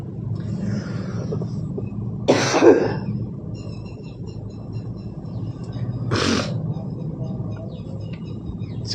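Two short, rough coughs from a person with a cold, several seconds apart, close by, over a low steady background rumble.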